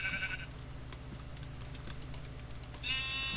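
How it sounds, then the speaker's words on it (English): Sheep bleat in Minecraft, a short blocky bleat at the start and another near the end, over a steady low game background hum with light clicking. "God, sheep."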